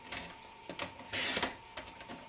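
Paper is trimmed for a handmade card on a paper trimmer, giving a few short scraping strokes and one longer slicing swipe, quiet and close, with no talk.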